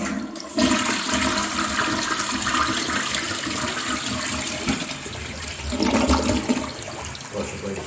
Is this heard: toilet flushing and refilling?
yes